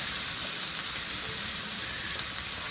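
Onion, tomato and green kanthari chili sauté in a hot pan, a steady, dense sizzle and crackle that holds level throughout with no talking.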